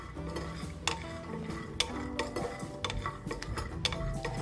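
Peanuts roast in a pan for a spicy pickle, giving scattered sharp pops and clicks over quiet scraping and stirring, close by at a low, even level.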